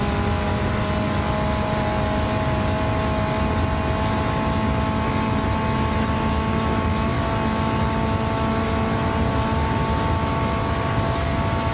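A turbocharged race car engine in the Gran Turismo driving game holds a steady sustained drone near the listener, running at a constant pitch throughout with no talk over it.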